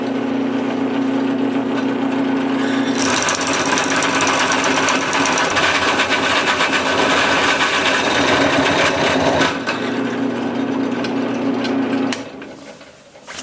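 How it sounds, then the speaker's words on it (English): A drill press bores a large hole in wood for a bark-on turned bowl, with a steady motor hum that turns into loud, rough cutting noise for about seven seconds. The motor then hums alone again and winds down. "A drill bit that size puts a lot of stress on the drill press itself"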